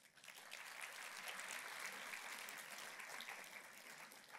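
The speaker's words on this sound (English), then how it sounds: "Give yourself a round of applause" A diverse crowd at a gathering claps in a sustained, even round of applause, heard from some distance and fairly soft throughout.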